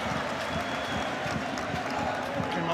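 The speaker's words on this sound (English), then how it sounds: "Round of applause for Asgard." A large stadium crowd at a Dundee United versus Rangers football match claps and murmurs steadily for a player, forming a dense, even wash of applause under a commentator's voice.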